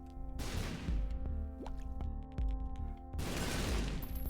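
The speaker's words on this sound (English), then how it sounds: "I still seem to be immune to explosions" Explosions in a video game, two broad loud noisy bursts near the start and end with a steady game soundtrack and scattered clicks between, no talk.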